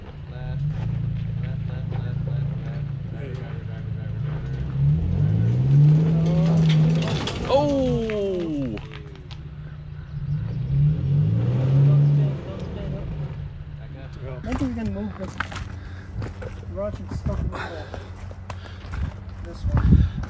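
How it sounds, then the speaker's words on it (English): Toyota Tacoma TRD Pro truck crawling off-road through ruts in Cold Water Canyon, a steady low engine drone with two swelling revs as it works through, constant talk over it and some scattered clatter near the end. "Here's a Toyota Tacoma TRD Pro trying to get through."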